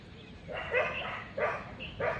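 A dog barks at night in a short series of three sharp barks, each a second or so apart, heard at moderate distance over a low background hum.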